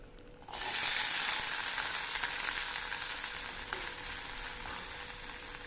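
Small shallots dropped into a little hot oil in a kadai burst into a loud, steady sizzle that holds for several seconds with no one speaking.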